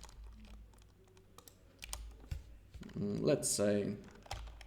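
Fingers tap a computer keyboard in a run of quick, close clicks, joined partway through by a short spoken phrase and then a louder burst of talking over the typing.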